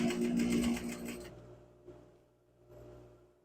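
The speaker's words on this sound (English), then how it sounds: "And we're just going to stitch right along that line." A sewing machine stitching along the seam of a cushion cover, a close, steady mechanical whir that runs briefly and then stops, leaving faint room noise.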